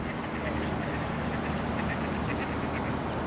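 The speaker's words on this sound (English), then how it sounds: "Ducks are giving it large as well over there." Ducks on a canal quack repeatedly in a lively, overlapping chorus, set against a dense, steady outdoor wash of noise with voices mixed in.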